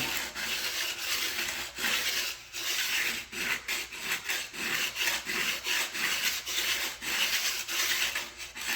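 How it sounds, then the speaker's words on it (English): Sanding a wooden model boat hull on a Model Shipways dory produces repeated rhythmic rubbing strokes, close and fairly quiet with no talk. "sanding too heavy on one side"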